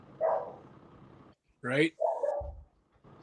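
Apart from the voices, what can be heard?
dog barking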